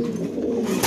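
An American shorting pigeon gives a brief, low, rolling coo at close range, alone and without talk.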